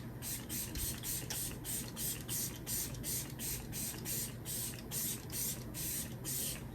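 Makeup setting spray hisses onto a face in about a dozen quick, evenly spaced pump bursts, close and soft, with no talking.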